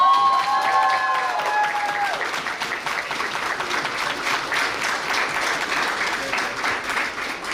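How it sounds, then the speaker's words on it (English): An audience at a school geography bee claps for the winner, with steady dense applause sustained throughout and a few whistle-like tones near the start. "Big round of applause for Esteban."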